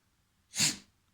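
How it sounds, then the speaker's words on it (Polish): A single sharp sneeze, close and clear, breaking an otherwise quiet moment. "Co mi tu kichasz?"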